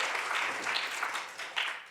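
Brief audience applause at a gathering in the French Senate, a soft, fairly distant patter of clapping with a couple of small swells before fading.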